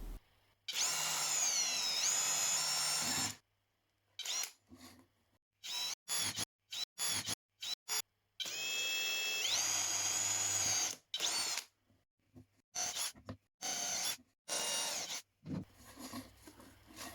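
A power drill whines in two long high-pitched runs, broken by short bursts and pauses, as material is drilled and cut for a homemade mosquito trap. The sound is close with no talk.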